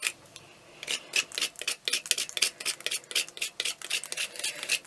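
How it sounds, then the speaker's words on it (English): Wax crayon rubbed against a metal grater in quick rasping strokes, a fast irregular run of bright scraping bursts, close and fairly quiet, with no talking. "we're going to grate this."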